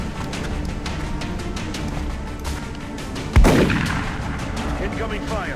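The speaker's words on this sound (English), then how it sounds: "Incoming fire." Gunfire in the X-COM: Enemy Within video game: a sharp, loud blast rings out midway over faint clicking and ambient game sounds, then fades with a short tail.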